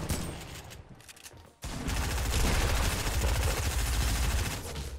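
Rapid gunfire in a Fortnite Creative deathmatch, a dense burst of repeated shots that cuts off briefly, then resumes as sustained loud automatic fire.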